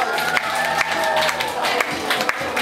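At a fashion show, the audience claps and cheers in loud, uneven bursts over music playing underneath.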